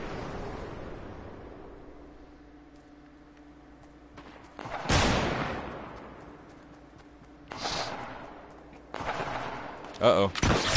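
Hand cannon gunfire in a video game: several sharp, loud shots burst out at irregular intervals over a low game ambience, with a final quick cluster near the end.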